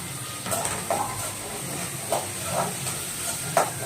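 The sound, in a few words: sautéing green chillies and tomato for fish curry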